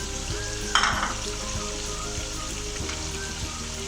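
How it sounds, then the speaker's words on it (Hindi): Steady close sizzling of garlic-ginger paste and green chilies frying in a pan, with occasional spatula taps and stirring scrapes. "लहसुन अदरक का जो मैंने पेस्ट पीस लिया था उसको वो भी फ्राई हो चुका है"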